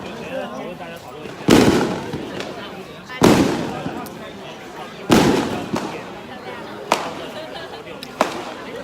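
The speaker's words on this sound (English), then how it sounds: "That's fireworks." Fireworks going off in Taiwan, four sharp loud bangs spaced a couple of seconds apart with crackling tails, plus a few smaller pops, heard outdoors at a distance.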